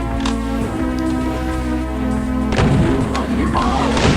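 Heavy shots in Doom on the Sunlust map Lost Antiques, a series of loud booming blasts with thuds and crashes, close and forceful, becoming denser partway through, with a voice faintly present.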